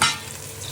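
Tomatoes go into a pan of frying onions, garlic and ginger, giving a brief burst of sizzling that settles into a steady, close crackle.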